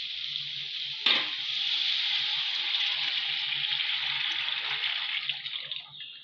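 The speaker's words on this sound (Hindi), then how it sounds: "अब हम चावल के हिसाब से पानी डाल देंगे" Water pours steadily into a pot holding soaked chickpeas and rice for chana pulao, a sudden splash at the start followed by a continuous rushing flow that tapers toward the end.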